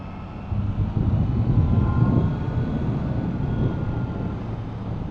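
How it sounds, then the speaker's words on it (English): A 2021 Triumph Trident 660 with a 660cc triple engine is ridden on the road, its engine a steady, moderately loud droning roar blended with rushing wind noise. "For a 660cc bike, this triple engine really can pull bags of power."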